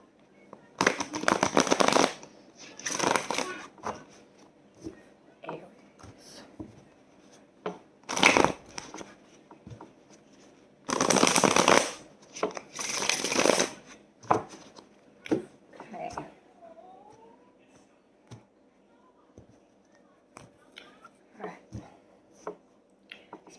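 Tarot cards being shuffled in several bursts, with loud riffling runs separated by quieter taps and soft handling noises, close by and without talk.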